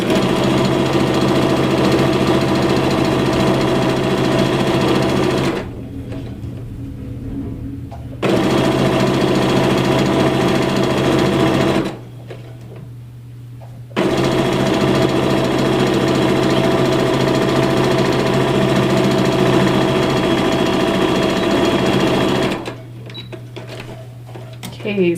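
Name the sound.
sewing machine sewing a quarter-inch seam on a quilt block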